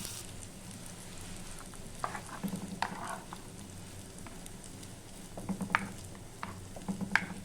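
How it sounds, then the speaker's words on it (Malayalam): A spoon stirs ground coconut paste into a traditional Kerala pickled mango curry, giving soft, intermittent scraping and gentle bubbling sizzle with a few louder stirring strokes near the end. "അരപ്പൊഴിച്ചിട്ടുണ്ട് ഒന്ന് ഇളക്കാം"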